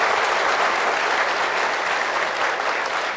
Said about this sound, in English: a big round of applause, please, for this distinguished panel